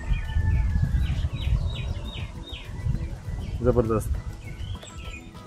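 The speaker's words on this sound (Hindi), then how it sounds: "सिर्फ चिड़ियों की चहचहाने की आवाज़" Small birds chirp and tweet in short repeated calls near the sea at Le Morne, Mauritius, against a steady low rumble of waves and wind, with one brief exclaimed word from a man.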